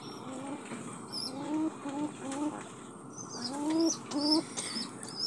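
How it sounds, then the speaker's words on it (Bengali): Caged pigeons coo softly while feeding their chicks, a series of low throaty repeated coos from close by, with faint chirps of other birds in the background. "কবুতরগুলো বাচ্চাকে খাওয়াচ্ছে।"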